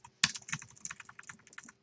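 Fast, uneven clacking of small arrow keys on a tiny computer keyboard during a Friday Night Funkin week 7 song, tapped in quick bursts up close with no talking.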